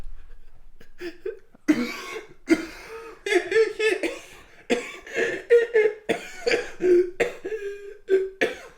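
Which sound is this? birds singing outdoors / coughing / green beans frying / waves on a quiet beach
coughing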